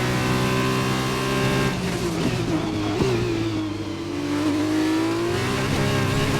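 An F2 race car engine in the F1 2021 racing game revs loudly and steadily, its pitch climbing and dipping through gear changes while the car runs at speed, close and continuous with no voices.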